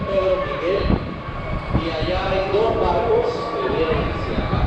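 A low rumbling train passes at a distance at the Panama Canal, heard from a fourth-floor observation deck, with a steady mechanical drone while people talk over it.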